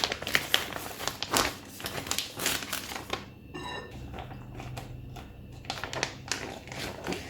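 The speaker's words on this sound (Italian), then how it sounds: "Io ora vado a mettere entrambi i tranci di salmone all'interno del mio sacchetto." A plastic vacuum-sealer bag crinkles and rustles as two salmon fillets are pushed inside, irregular crackling bursts with a brief quieter stretch in the middle, close and fairly soft, with no talking.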